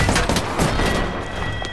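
Gunfire in the video game Apex Legends, a rapid burst of loud, close shots in a quick fusillade lasting under two seconds, with no talk.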